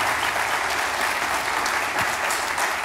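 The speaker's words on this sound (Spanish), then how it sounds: "le pido a ustedes un aplauso para nuestra compañera primer violín, está Karen Guizar." A concert audience at an early music ensemble performance claps warmly for the first violinist, the applause sustained, full and evenly loud from start to finish with no talking.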